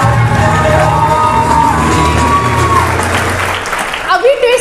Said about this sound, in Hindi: जोरदार तालियां भाई 10 मिनट वालों के लिए।